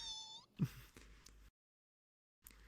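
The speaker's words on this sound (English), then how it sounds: "I'm staring at the cat creature." A cat creature in a video game lets out a short rising meow, followed by a few soft clicks and thumps, then silence and a faint tap at the end.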